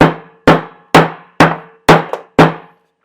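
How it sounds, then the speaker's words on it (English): A hammer taps keys into an ammo auto drive for a Mark 7 Apex 10 reloading press: six sharp, evenly spaced metallic strikes, each ringing briefly, with a faint extra tap between the last two. "If you have a hammer, like me, use a hammer."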